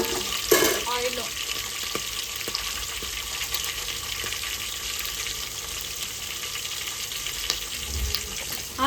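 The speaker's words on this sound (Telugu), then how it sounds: "పచ్చిమిర్చి అయితే ఇట్లా ఫ్రై చేసుకోవాలి గైస్. మనం వేగాలి ఆయిల్లో." Green chillies fry in hot oil for bagara rice, giving a steady, close hiss of sizzling with a few clinks from stirring, at moderate volume and with no talk.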